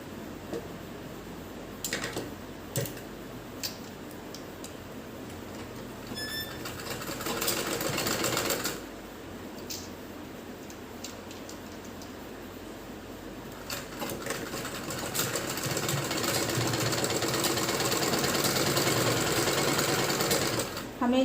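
A sewing machine stitching a kachchha runs in intermittent bursts, stopping and restarting, with a longer steady run toward the end over a low room background.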